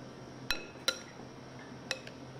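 Utensil strikes against a container while tuna tartare is mixed, sounding as three or four sharp, clinking taps spaced irregularly over a quiet background.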